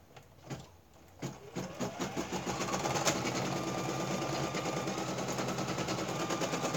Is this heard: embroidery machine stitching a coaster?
yes